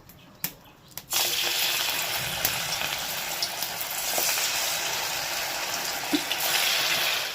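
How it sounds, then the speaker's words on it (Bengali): Sabudana vada (sago fritters) deep-frying in hot oil: a steady, loud, close sizzle hisses continuously after a couple of sharp clinks at the start, with small pops scattered through. "তেলটা পুরোপুরি গরম হয়ে গেছে, আর এই দেখো সব কটা তৈরি করে নিয়েছি, এক এক করে এর মধ্যে দেব আর ভেজে নেব।"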